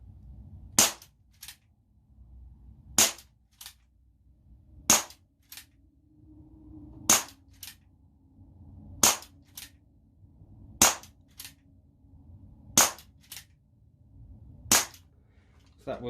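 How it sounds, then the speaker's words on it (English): Eight single-action shots from a Winchester 4.5 Special CO2 pellet revolver, fired indoors: sharp, loud cracks spaced about two seconds apart, each followed by a fainter click, over a low steady hum. "So that was 8 shots single action"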